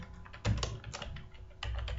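Computer keyboard keys pressed in a short burst, a Ctrl+K shortcut among them, giving a few sharp clicks with one louder cluster midway and a final pair near the end, close and clear with no talking.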